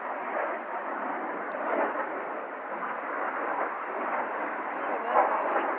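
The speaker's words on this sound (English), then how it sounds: "It's one of the army planes. I don't know what they're called." A military plane passing somewhere overhead above woodland, a steady broad engine roar that holds evenly throughout at moderate distance, with no talk over it.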